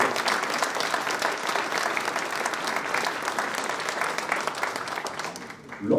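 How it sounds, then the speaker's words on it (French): Audience applause at a ceremony honouring a local entrepreneur in Tarnos, a dense, steady clapping that fills the room for about six seconds before easing off near the end. "On peut l'applaudir."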